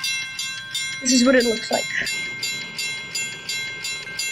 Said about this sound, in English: The mechanical bells turn on.